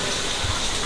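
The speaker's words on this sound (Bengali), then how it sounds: "বেশি করে পানি দিলাম কারণ এখন মৃদু আছে" A quick gush of water poured into a pot of frying beef makes a short, close, rushing splash that lasts under a second, with no speech.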